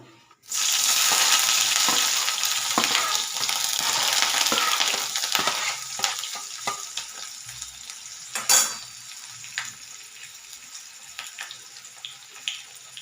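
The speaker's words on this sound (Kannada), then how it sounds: "ನೋಡಿರಿ, ಓನಿಯನ್ ಹಾಕ್ತೇನೆ ಈಗ." Onions sizzle and fry in a hot pan, a loud continuous crackle that begins abruptly and stays steady, with occasional stirring clinks and a sharper burst near the end.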